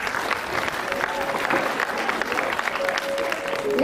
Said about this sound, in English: let's applaud for Gaurika's effort.